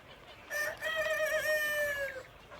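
A rooster crows once, a long drawn-out call rising and holding steady, on a poultry farm with several sheds housing around three thousand chickens; the call is moderately distant and stands alone over a quiet background.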